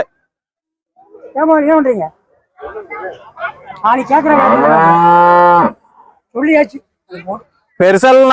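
Cattle low repeatedly and loudly nearby at the Seenapuram cattle market in Tamil Nadu, several long, drawn-out moos, with people chattering in the background of the busy outdoor market.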